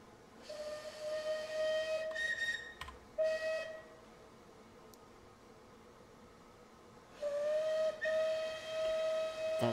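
Steam locomotive whistle in Train Simulator 2020, Merchant Navy Clan Line, sounding in loud sustained blasts: a long one, two short bursts, then another long blast over a steady steam hiss.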